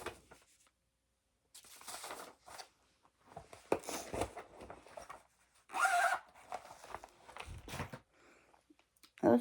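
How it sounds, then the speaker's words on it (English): Several quick zipper pulls on bags, loud and close, alternating with rustling and handling noises, with brief quiet gaps between bursts. "Those bags, the zipper is very loud."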